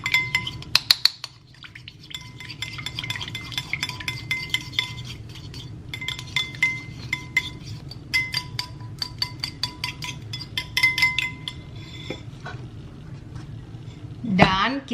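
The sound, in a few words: stirring salad with olive oil in a bowl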